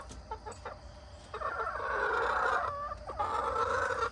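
Several hens cluck and squawk nearby, a busy overlapping chatter that grows louder midway and continues without pause.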